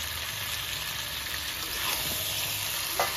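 Home-style desi chicken curry meat sizzling in a pan with whole raw garlic cloves while it is being sautéed down, a steady close crackle with a brief stirring scrape near the end.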